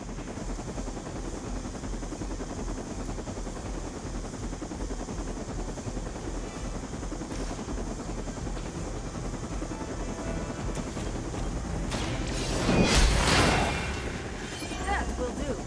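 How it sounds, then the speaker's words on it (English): Helicopter taking off in the video game Marvel's Midnight Suns, a steady rotor drone under continuous noise that swells near the end with a sharp rising burst. "The helicopter is about to leave."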